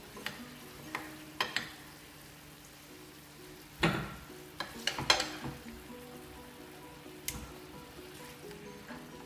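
Stewed meat with potatoes is spooned from a pot into a serving container, making a few soft scrapes and clacks in a quiet kitchen.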